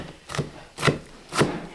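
A knife chops onions from this year's harvest for a bean-with-bacon soup, three separate, evenly spaced cuts landing on a cutting board, close and moderately loud, with no talking.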